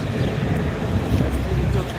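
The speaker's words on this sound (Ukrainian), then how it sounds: "Ой, вітер такий дує." Steady low rumbling wind buffets the microphone throughout, a continuous blustery roar with no clear gaps.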